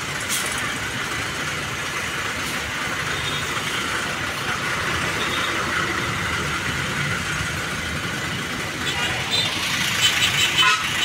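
Buses pull out through the busy exit of Purabaya bus terminal in Surabaya, engines droning in the mid-distance over steady traffic noise, with a horn toot and a vehicle passing close at the end.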